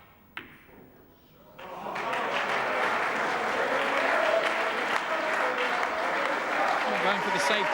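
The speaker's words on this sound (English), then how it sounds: "The crowd cheering and in order." A crowd applauds at a 1994 Mosconi Cup pool match. A single thud comes first, then loud, sustained clapping swells in and fills the rest of the stretch.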